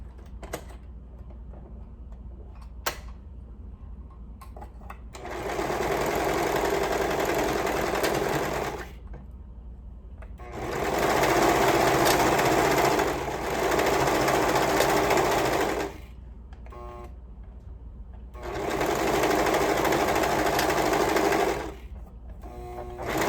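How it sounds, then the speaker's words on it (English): A sewing machine stitches a sleeve seam in three long, steady whirring runs. Short pauses separate the runs, and the machine sounds loud and close. "And we'll go ahead and stitch those with a 1/2 inch seam allowance."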